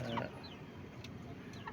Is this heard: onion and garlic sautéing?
no